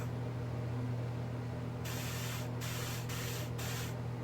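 Steady broadband hiss of fans picked up by a microphone, with a low hum underneath; a brighter rushing layer kicks in partway and briefly dips a few times.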